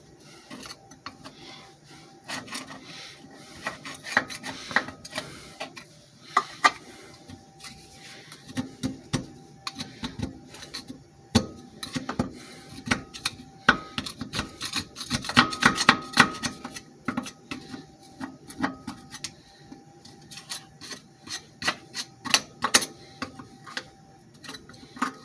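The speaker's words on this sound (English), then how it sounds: "I got to clean some of this dirt off" Dirt being scraped off a 5 hp Briggs and Stratton engine on a workbench, producing irregular close scratching and clicking strokes in bursts, some quick and clustered, others spaced out, with no speech.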